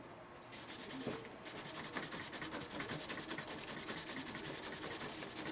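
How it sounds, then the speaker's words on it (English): Steady, close rubbing of a pencil eraser worked back and forth along the fretboard of a 50-plus-year-old Harmony Rocket guitar, a dense continuous scrubbing with brief pauses and no talking. "I'm just using an eraser"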